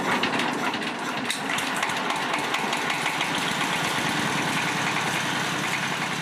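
Engine and pump run continuously during sago processing, a steady loud mechanical drone with rapid knocking pulses and no speech.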